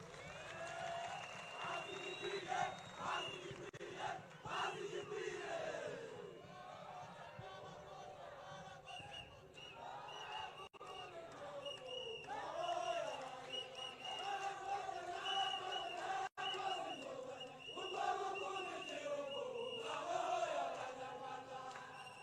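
A large crowd at an outdoor election campaign rally for RPF candidate Paul Kagame in Musanze district, Rwanda, applauds and cheers in a dense, sustained roar, with shouting and chanting voices rising and falling throughout.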